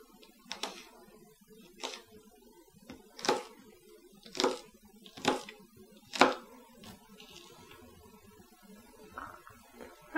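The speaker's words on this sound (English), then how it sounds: "The first thing I'm going to do is chop some scallions or green onions." A knife chops two scallions on a cutting board, roughly seven or eight distinct, unevenly spaced thuds close up in a quiet room.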